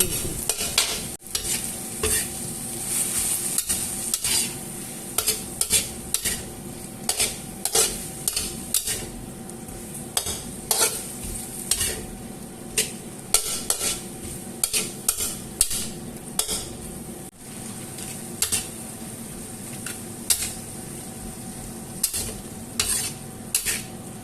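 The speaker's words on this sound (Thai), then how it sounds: "ผัดให้หน่อไม้และเครื่องแกงเข้ากัน" Boiled bamboo shoots being stir-fried with curry paste and minced pork give a loud, close sizzle broken by frequent rhythmic scrapes and clanks of a metal spatula against the pan.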